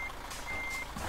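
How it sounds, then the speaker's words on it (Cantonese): A vehicle backing along a narrow road sounds its reversing alarm, a steady high electronic beep repeating twice over a low idling engine rumble. "我倒車啊，小心啊！"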